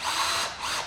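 Drill chuck tightened onto a tape-wrapped drill bit: a brief, close, whirring ratchety grind, in two short surges, with no talk.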